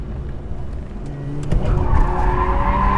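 A Mazda RX8 drifts, its tires skidding and squealing over a revving engine that grows louder midway and holds close.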